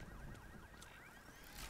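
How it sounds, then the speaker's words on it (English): A wailing electronic alarm sounds in Batman Arkham Knight, its tone sweeping up and down in repeated rising and falling cycles at a steady level, with a few sharp bright bursts over it. "that's an alarm"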